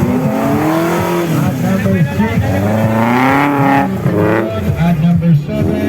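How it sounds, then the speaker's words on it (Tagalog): A Suzuki Jimny race car with a 4AG engine rated at 200 horsepower runs hard on a race track, its loud engine revving and shifting with tire squeal, under continuous talk from a race announcer. "on the track with his Suzuki Jimny 4AG 20 pounds, 200 horsepower"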